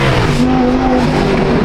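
A rebuilt BMW M4 G82 under hard driving, its engine droning loudly with a pitch that climbs and settles, road and tire noise mixed in throughout, close and continuous with no voices.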